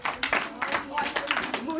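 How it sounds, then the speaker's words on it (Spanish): A Spanish-language classroom claps for a classmate: several quick, rhythmic bursts of clapping mixed with students' voices and cheering, fairly close and moderately loud. "5 aplausos para Ting"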